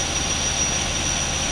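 A retired 2005 CCC rear-loader garbage truck with a 25-yard Leach body, 66,000 lb GVW, idles steadily nearby, a continuous low diesel rumble with a faint high whine on top.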